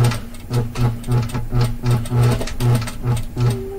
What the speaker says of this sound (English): I grab two threads and hold them so this way I can control my stitches